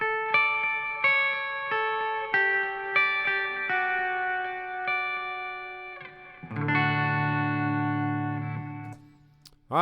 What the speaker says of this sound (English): And then the long reverb.